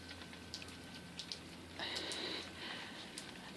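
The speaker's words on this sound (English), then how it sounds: "It's raining." Rain falling at night outside a window, a steady soft patter and hiss with scattered distinct drop ticks, swelling briefly louder midway before settling back to a gentle continuous wash.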